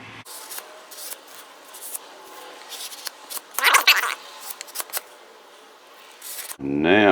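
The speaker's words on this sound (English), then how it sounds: "Let's see what happens when we go to be scraping here." Close, intermittent scraping strokes as the finish is scraped off a Marlin rifle stock, with quiet gaps between passes; a voice comes in at the very end.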